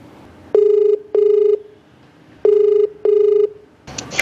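Ringback tone of an outgoing telephone call, a loud steady buzzing tone in two paired bursts with pauses between them, before a brief noise at the end.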